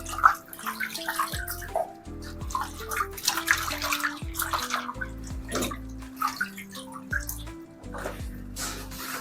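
Water splashes and sloshes in bursts as large taro leaves are rinsed in plain water in a basin, with steady background music playing throughout.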